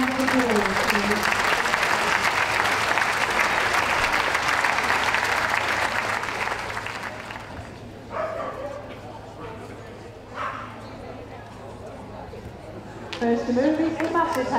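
An audience at a dog show for the hound group claps for about seven seconds, then the applause fades while dogs yip and whimper nearby and an announcer speaks.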